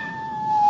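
A single sustained cat meow in a BBC radio mystery drama, a thin steady tone that swells slightly louder toward the end, heard alone without speech.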